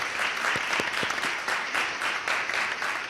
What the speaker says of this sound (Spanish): un aplauso para Andrés Llena, que está aquí con todos vosotros